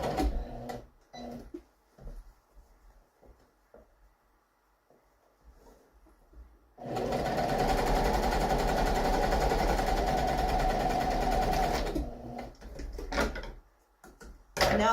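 Sewing machine stitching a French seam, a steady whirring run of about five seconds between quieter handling noises, close and alone.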